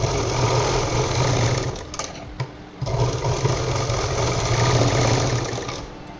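A sewing machine stitching purse pieces cut from a blouse fabric, a fast continuous mechanical whirr with a brief pause around two and a half seconds before running on steadily.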